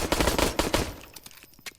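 Automatic gunfire from a video game, rapid dense bursts of shots for most of a second, then thinning into a few scattered single cracks.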